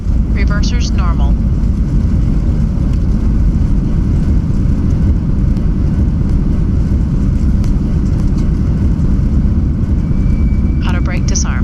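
Airliner thrust reversers roar during landing in Microsoft Flight Simulator, a loud, steady low rumble sustained throughout, with a voice speaking briefly at the start and end.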